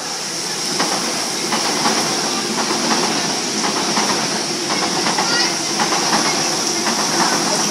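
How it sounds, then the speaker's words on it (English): An electric passenger train rolls past nearby at Stanmore station, Sydney, with a steady roar and rhythmic clicking of wheels over rail joints, holding loud throughout. "We've got an MSET passing for Glenfield via Strathfield."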